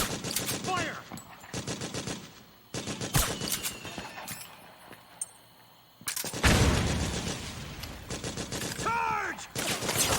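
Rapid automatic gunfire from Metal Gear Solid 4 comes in loud, dense bursts separated by short pauses, with shouted voices heard between and over the volleys.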